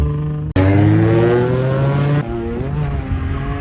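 A drift car engine screaming at high revs while the car spins during a ride-along at a drift event, loud and close from inside the car, dropping abruptly and then climbing again.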